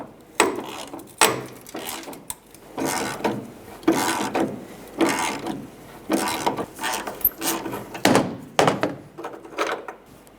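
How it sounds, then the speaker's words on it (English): A tailgate striker bolt on a Ram 2500 truck bed is worked loose with a T45 Torx bit, giving repeated close ratcheting bursts and thunks in an uneven rhythm, loud and without talk. "You can use a T45 Torx bit to remove this from the bed."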